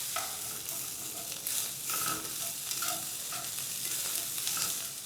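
Ground beef browning in a frying pan gives a continuous, even sizzle with light scraping and stirring over it, heard close up and moderately loud, without any voices.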